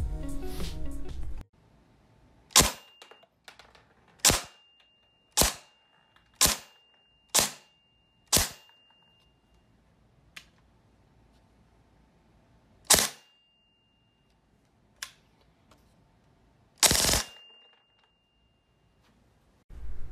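A Krytac Vector airsoft gun fires into a chronograph as a series of separate sharp, snappy cracks spaced a second or two apart, with a quiet background between shots.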